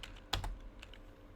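A few quiet keystrokes on a computer keyboard tap out a brief, irregular burst of clicks, one slightly louder than the rest, over near silence.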